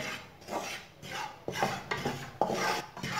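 A spoon stirs flour roasting in a pan for homemade mithai, giving a continuous close gritty scraping and rasping with occasional metallic knocks against the pan.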